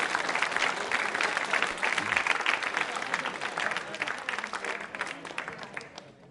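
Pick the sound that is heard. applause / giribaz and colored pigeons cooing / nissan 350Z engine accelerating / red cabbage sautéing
applause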